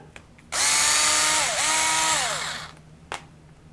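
A small cordless power driver fitted with a 2.5mm hex bit whirs loudly at close range for about two seconds, backing out screws on the trailing arm of an Axial SMT10 RC truck, its pitch dipping briefly mid-run, with faint clicks before and after.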